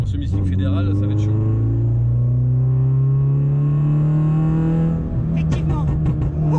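A Renault Clio 2 RS2 engine revs hard and climbs steadily in pitch toward about 8000 rpm on a cold track, a loud close in-car drone that drops briefly before rising again.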